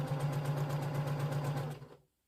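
A sewing machine stitches strips of a jelly roll quilt, a steady rapid mechanical whirring hum with a fast pulsing rhythm running loud and close for about two seconds before stopping abruptly.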